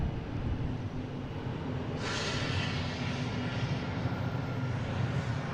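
Distant Airbus A330-900 airliner near Boston Logan International Airport, a steady low jet rumble that swells slightly in brightness partway through, faint and continuous with no talk.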